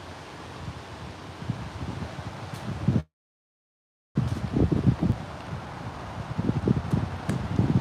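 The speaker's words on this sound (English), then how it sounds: "that wind is coming up" Wind rising through woodland, a steady broadband rush with rustling leaves and gusty microphone buffeting, broken by a second of complete silence before the blustery roar returns and swells.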